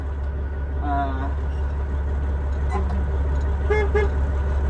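A truck horn toots twice in short bursts over a steady low engine idle, fairly close.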